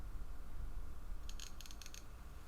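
A model locomotive's electric motor runs with its sound system switched off, giving brief bursts of sharp crackling and clicking over a steady low mechanical hum.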